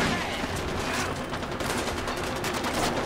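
Dense Kalashnikov rifle gunfire in the Far Cry 4 video game, a loud, sustained burst of rapid overlapping shots that fills the whole moment with no break.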